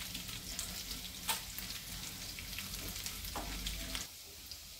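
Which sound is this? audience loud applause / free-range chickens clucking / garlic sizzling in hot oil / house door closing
garlic sizzling in hot oil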